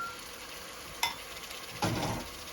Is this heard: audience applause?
no